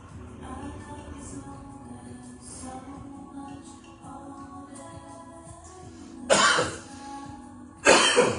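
Two sharp coughs, the first about two-thirds through and another near the end, loud against quiet background music.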